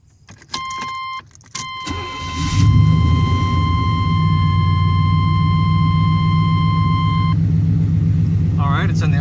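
A 1990 Chevy C1500 pickup engine cranks over and catches, then settles into a steady low idle rumble, preceded by a brief key-jangling chime and a few clicks, with a short remark near the end.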